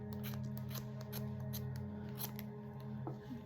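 Scissors snip through yarn repeatedly in quick, crisp cuts close by, over a steady low background hum.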